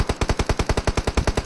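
Rapid automatic gunfire in a competitive video game match, a fast even burst of about fourteen loud, close shots with no talk over it.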